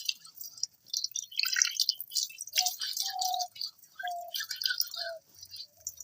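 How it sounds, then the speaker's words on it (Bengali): Water rinsing a cutting board outdoors at a winter family picnic, faint scattered splashes and drips with a few brief squishy scrubbing sounds, quiet and irregular. "এবার আমরা কাটিং বোর্ডটা ধুয়ে নিচ্ছি"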